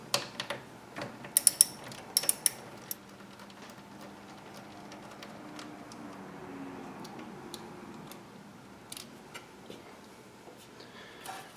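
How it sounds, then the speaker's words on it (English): A 10mm socket wrench loosening the negative battery cable bolt on a motorcycle gives a few sharp ratcheting clicks early on, then quieter scattered ticks and faint mechanical rustle, close and low in level. "This is a 10mm socket, and I'm going to remove it now."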